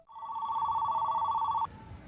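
A house telephone gives a single steady electronic ring that is close and clear, cutting off abruptly after about a second and a half.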